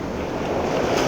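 Ocean surf washes steadily onto a beach, a continuous loud broadband rush of breaking waves, with some wind noise on the microphone and no voices.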